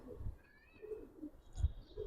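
Giribaz pigeons in a loft cooing softly, a few low throaty coos rising and falling over a couple of seconds alongside faint chirps, fairly close but quiet.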